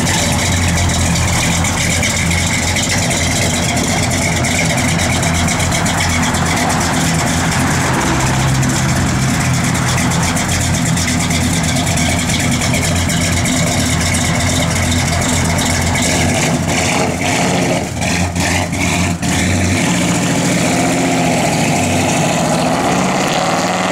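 A 1965 Chevrolet Impala SS idles steadily and loud at close range, a continuous low rumble holding even through the whole stretch with a slight dip in the throb near the end.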